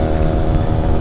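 A motorcycle engine roars up close on a quiet road during a touring ride. It is a loud, steady, throaty drone with no talking.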